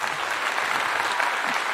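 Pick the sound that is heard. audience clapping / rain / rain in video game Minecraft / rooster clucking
audience clapping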